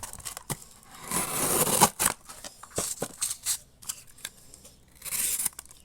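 A Sitivien ST 124 folding knife slices along the edge of a sheet of paper, giving repeated crisp rasping cuts and scrapes in short bursts with pauses between, close and fairly loud.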